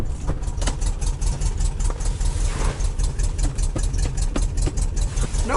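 A VW Beetle engine running after a cold start in Colorado winter, a steady idle with a rough, rhythmic knocking pulse, loud and close, with no talking.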